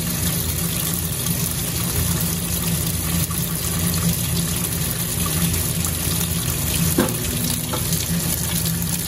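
Water pouring into the drum of a Maytag MVWP575GW commercial grade top-load washer, a steady broadband rush that holds evenly throughout with a faint low hum beneath, no talking.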